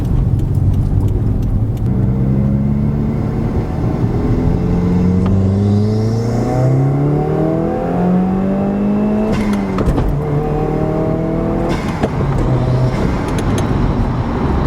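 A 2018 Subaru WRX with a GrimmSpeed cold air intake accelerating hard through several gears, loud close engine revs climbing and dropping at each shift, with turbo whoosh between pulls.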